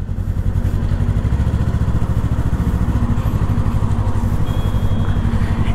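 A Yamaha R3 motorcycle engine running close and loud, a steady low throbbing rumble with a rapid pulsing beat that holds even throughout, no voices over it.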